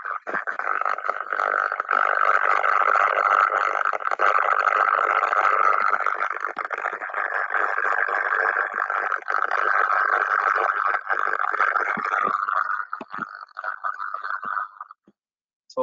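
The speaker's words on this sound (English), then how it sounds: "this was the sound of the destructive corona going towards the tracking stage." Ultrasound pickup of destructive corona discharge in electrical equipment progressing toward tracking, a steady loud buzzing hiss with crackle running continuously for about fifteen seconds before cutting out.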